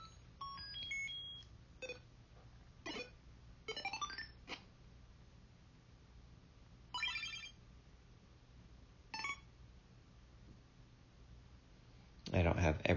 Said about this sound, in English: this is the 8-bit sound pack I've been working on